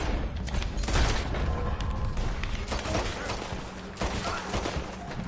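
Repeated gunfire in Red Dead Online, a steady burst of shots and impacts close by with rough mechanical texture, under intermittent game noise.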